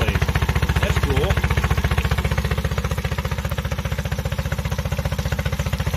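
A 2021 Honda outboard boat engine runs steadily with a loud, rapid, even pulsing throb, close by and continuous, with exhaust venting above the cavitation plate.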